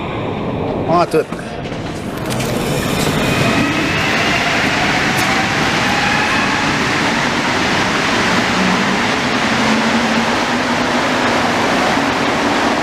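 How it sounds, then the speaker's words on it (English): A Montreal metro train pulls into the station and runs on with a loud, steady rumble that fills the platform, and a brief voice is heard near the start. "There's my train."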